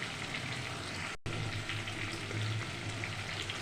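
Ground cumin, pepper and coriander sauté in a hot pan for a soybean curry, a steady close sizzle and crackle with faint stirring and no talk.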